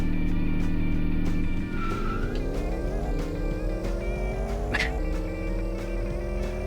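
Engine whine from a race car in the DS game Chrysler Classic Racing, a steady buzzing drone that climbs in pitch through gear changes, with a brief squeal partway through and no talking.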